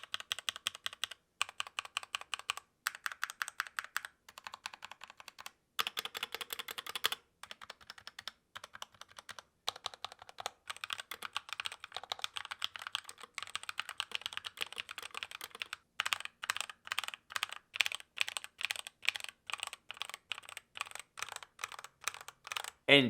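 Typing on a Redragon K530 Pro mechanical keyboard fitted with EpoMaker Flamingo switches, a close, crisp clatter of rapid keystrokes in bursts separated by short pauses, heard alone.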